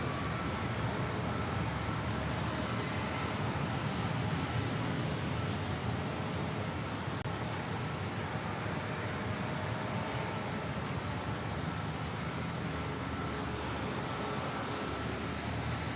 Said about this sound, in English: The corporate jets next to take off here.